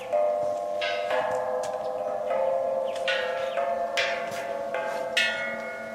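Temple bells hung along a hillside walkway in Thailand are struck one after another, bright metallic clangs ringing out with sustained tones that overlap as walkers climb and ring each in turn.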